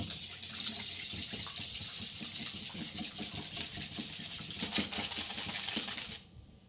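Water runs steadily from a kitchen tap into a sink, a continuous close splashing rush with faint clinks underneath, cutting off abruptly near the end.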